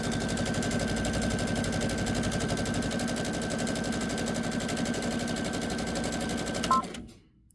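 A Brother sewing machine with a Muvit foot stitches a serpentine stitch in a fast, steady mechanical chatter, running evenly and fairly quietly before stopping abruptly near the end.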